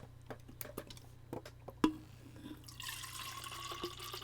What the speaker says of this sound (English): Water ASMR.